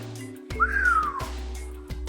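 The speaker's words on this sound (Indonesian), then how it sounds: "Wiro keluarkan suara bersiul." A single person whistles one sliding note that rises then glides downward, clear and close, over a low steady hum.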